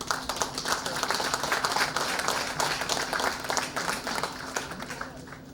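Audience applause after a presentation at a Port Royal meeting, a steady, dense patter of many hands clapping throughout, fairly loud and continuous, with faint voices mixed in.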